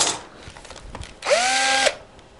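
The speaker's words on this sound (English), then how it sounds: "Drill a couple holes in it" A power drill boring a hole into a chunk of metal, preceded by a few light clicks and taps, then one loud, steady whine lasting just over half a second before cutting off.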